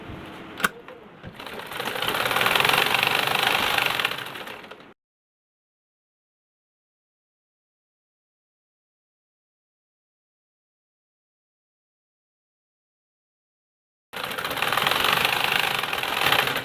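Home sewing machine with a thread that keeps breaking, whirring briefly in a loud burst, then stopping dead into a long silence before starting up again near the end.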